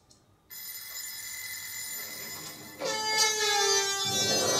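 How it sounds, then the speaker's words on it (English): A loud, sustained air horn blast kicks in after a quieter tonal hum, blaring steadily to the end. "You got a horn? Oh, you got the air horn."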